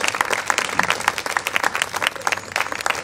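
Audience applause at a national literary prize award ceremony, a room of hands clapping steadily for the full three seconds with dense, bright claps at moderate loudness and no talk over it.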